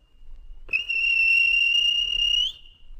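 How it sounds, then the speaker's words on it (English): A single shrill railway guard's whistle blast holds steady for about two seconds, loud and close, then cuts off. "Then the guard blew his whistle."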